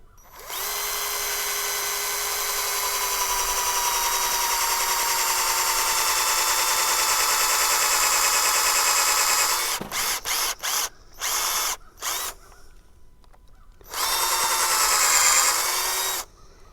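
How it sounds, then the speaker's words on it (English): A power drill bores a tap hole into a maple tree, running loud and steady for about ten seconds, then cutting in and out in several short bursts before one last sustained run near the end. "You also want to kind of drill up at a slight angle."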